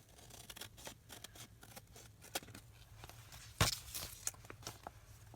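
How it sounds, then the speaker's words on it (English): Scissors trim the edges of a handmade junk journal cover, a series of short crisp snips and paper rustles at close range, with one louder cut partway through and no talking. "I'm trimming off the edges"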